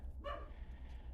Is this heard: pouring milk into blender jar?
no